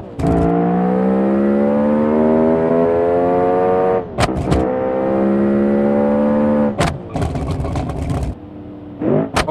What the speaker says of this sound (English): The sound coming from this car does not make any sense.